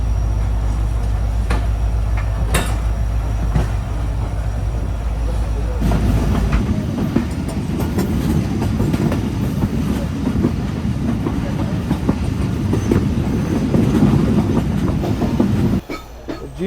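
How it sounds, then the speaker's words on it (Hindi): The Sukkur Express pulls into Padidan railway station: a deep engine drone gives way to the loud, close rumble and clickety-clack of passing wagons, continuing steadily before dropping off at the end. "तो 8:51 पर फाइनली हमारी ट्रेन अप्रोच बना रही है पडीजन रेलवे स्टेशन पर।"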